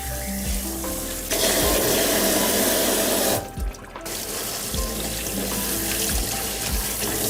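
Tap water runs steadily into a sink while aged kimchi is rinsed under it, a continuous close splashing rush that briefly cuts out and resumes, with clunks and handling sounds but no voices.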